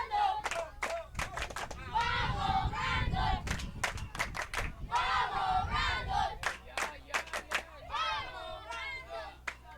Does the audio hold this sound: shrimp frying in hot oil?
no